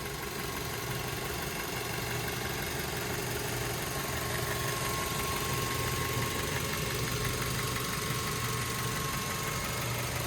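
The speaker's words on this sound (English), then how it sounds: "As you can tell, smooth running engine, no odd noises or anything like that" A 2009 Mazda 3i engine idles steadily and evenly for the whole stretch, a smooth low rumble with no talking over it.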